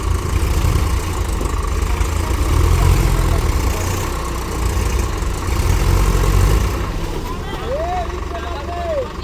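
A tractor engine rumbles loud and steady as it works to pull out another stuck tractor, its low throb swelling and easing throughout, with people talking over it.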